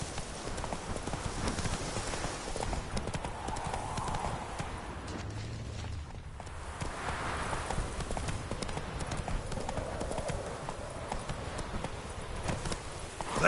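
Roach, the horse from The Witcher video game, trots along with a steady, continuous clip-clop of hooves, close and fairly loud over a dense, noisy game soundscape.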